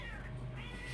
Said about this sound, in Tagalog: Nag-aaway yung pusa.